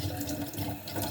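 Running tap water streams steadily into a sink as a fork is rinsed during dishwashing, a continuous close splashing wash with no talk.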